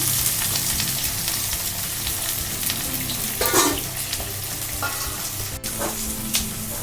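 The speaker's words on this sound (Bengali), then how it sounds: "পেঁয়াজটাকে আমি ভালো করে ভেজে নেব" Chopped onions fry in a pan for Bengali chicken kosha, with a loud, close, continuous sizzle broken by a few scraping stirs partway through.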